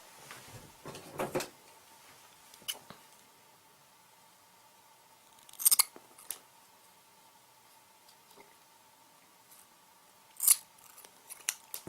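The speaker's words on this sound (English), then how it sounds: "So we can cut off any excess." Scissors snip the excess cord off a woggle, with a few separate crisp cuts spaced several seconds apart among quiet handling noises.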